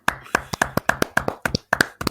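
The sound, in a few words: small round of applause, hand clapping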